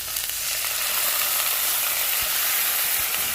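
Soy sauce goes into a hot pan of cashews for dragon chicken and sets off a loud, steady sizzle and hiss that carries on unbroken, with no talking.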